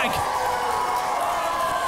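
A wrestling event crowd cheers and roars loudly in an indoor arena during a Fight Factory match, a dense sustained din of voices with a commentator talking over it.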